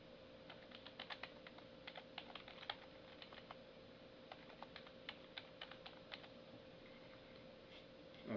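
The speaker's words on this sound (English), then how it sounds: "you can just start typing in email addresses." Someone types on a computer keyboard in a quiet room, a run of soft, quick key clicks in irregular bursts over a faint steady hum, with no voices.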